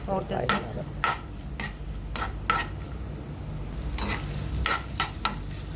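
Coconut pieces frying in ghee while a spoon stirs them, giving a steady soft sizzle under repeated sharp scraping strokes against the pan, with quiet stretches in between.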